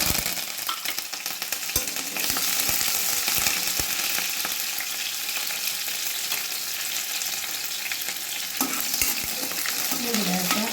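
Garlic, green chili and onion sizzle steadily in a hot pan with fenugreek seeds, a continuous loud frying hiss broken by stirring scrapes, with no one talking.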